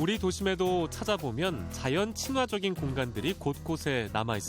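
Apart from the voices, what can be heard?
No everyday noises stand out.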